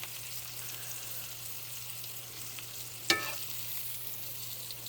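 Breaded green tomatoes fry in a pan with a steady hiss of hot oil and one brief louder crackle partway through.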